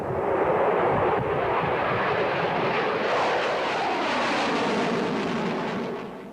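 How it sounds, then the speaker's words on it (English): A loud, steady roar from an F-16 fighter jet rolling down a runway centre line for takeoff, broadband engine thunder holding constant throughout before easing slightly at the end, with no voices. "The F-16 rolled down the center line of the runway."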